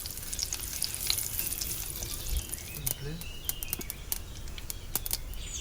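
Mustard seeds sizzle and pop in hot oil in a clay pot, a steady frying hiss broken by sharp crackles and spits, close by, with faint birdsong in the background.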